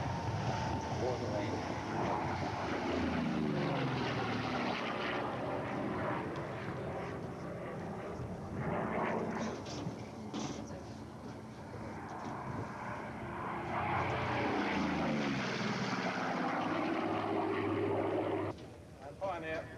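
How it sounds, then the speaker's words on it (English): A Catalina propeller flying boat passes with its landing gear down, a droning piston-engine roar that swells, shifts pitch as it goes by and fades, under a commentator's voice at an airshow. "Here comes the Catalina with its gear down."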